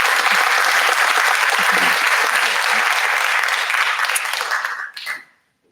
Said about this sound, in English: So big round of applause for the panel.